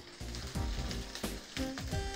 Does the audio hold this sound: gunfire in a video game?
no